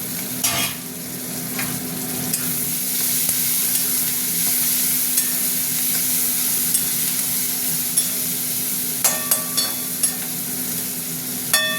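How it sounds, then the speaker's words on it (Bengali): Prawns frying with onions in a pan give a continuous sizzle under repeated stirring, with sharp clicks and scrapes of a utensil against the pan near the start and clustered toward the end. "পেঁয়াজটা ভাজা ভাজা হয়ে গেছে, চিংড়ি মাছটা দিয়ে দিলাম"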